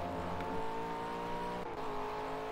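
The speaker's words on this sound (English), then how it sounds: "My car scrapes a lot, by the way." A McLaren race car in Project CARS holds a steady engine drone with tonal harmonics while its underside scrapes the ground now and then. The sound is fairly quiet and there is no talking.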